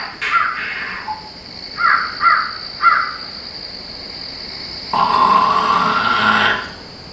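A crow caws harshly several times, a few separate calls spaced apart, over a steady high hiss, followed by a longer rough squawking burst.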